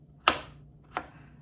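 Two sharp knife chops on a cutting board while vegetables are cut into cubes, spaced well apart, close and fairly quiet with no talking.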